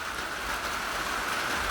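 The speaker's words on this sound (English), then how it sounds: "Nice and rainy." Rain falls outside as a constant, dense hiss with no voices over it.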